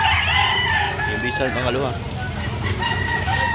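A gamefowl rooster crows once in the middle, loud and near, its rising then wavering call set against background clucks and birds, with someone talking over it.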